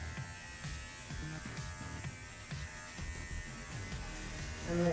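Electric shaver clipping the hair around a poodle's feet and between its toes, a steady close buzz with small shifts in pitch as the blade moves, growing slightly louder at the end.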